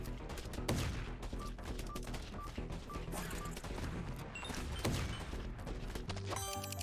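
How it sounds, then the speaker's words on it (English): Enemies fire on the player in the zombie shooter Biters & Bullets: a dense, continuous barrage of rapid gunshots and impacts with layered game effects and no pauses, loud and close. "they are shooting at me now"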